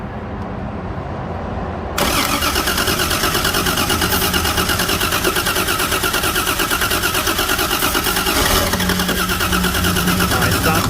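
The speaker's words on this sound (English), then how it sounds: "at least we got that on the video that it started a little bit" A 1980 Dodge Aspen slant six engine cranks, then catches and runs roughly for several seconds. It is loud and close, with a steady, pulsing engine rumble following the initial cranking.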